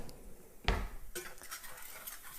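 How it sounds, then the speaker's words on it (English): A spatula scrapes and clatters against a pan while stirring chicken, one sharp close knock followed by lighter metallic scraping and tapping, no voices. "And I'm going to stir this around."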